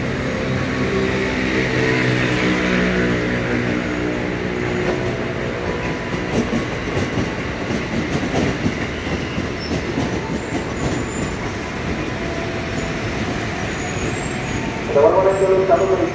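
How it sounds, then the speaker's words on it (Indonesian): An eight-car KRL commuter train rumbles and clatters into Tanjung Barat station, Indonesia, with rhythmic wheel noise, a station announcement and voices over it, ending with brakes squealing. "Jalur 1 dipersiapkan masuk tujuan Bogor rangkaian 8 kereta"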